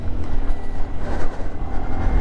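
Honda Monkey 125cc motorcycle with its standard exhaust hums smoothly at a steady, low engine note close to the microphone, with light wind rush over it.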